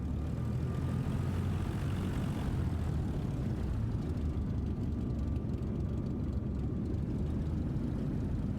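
An EasyJet airliner taking off in Microsoft Flight Simulator 2024, a steady low engine roar with a faint whining tone, continuous and moderately distant, heard alone.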